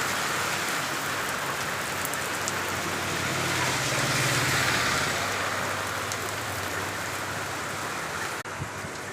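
Heavy afternoon rain pours down in a dense, continuous hiss on surrounding surfaces, steady and fairly close throughout with no voices.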